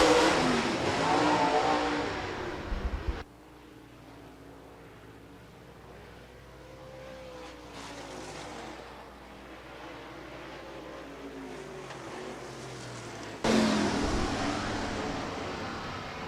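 Late model race cars run a heat race at Rapid Speedway, their engines roaring loudly past at the start and again near the end, with a fainter, distant drone of cars circling in between.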